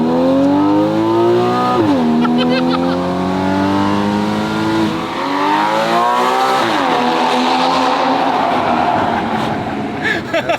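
Porsche Cayman fitted with an exotic aftermarket exhaust accelerates hard through the gears, loud and close, the engine note rising in long sweeps with a brief drop at each shift and a harsh rasp near the end.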